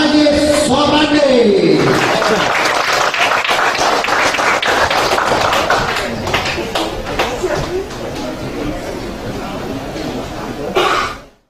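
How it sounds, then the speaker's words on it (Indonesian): Audience applause at a company business event in a hall, a dense wash of clapping that runs under a voice at the start and carries on steadily for several seconds before tapering off near the end. "Kita tepuk tangan buat Bapak Haji Ustadz Haji Sopandi."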